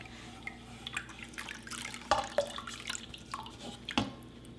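Water dripping and trickling from tightly squeezed grated potato for Korean potato dumpling soup, a few distinct drips standing out over a faint steady background, close and quiet.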